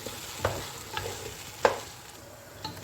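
Chicken with vegetables, tomato, garlic and chili is stirred in a sizzling pan, with a soft continuous fry and a few sharp scrapes of the utensil against the pan spaced unevenly.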